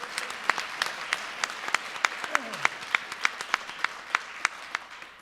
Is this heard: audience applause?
yes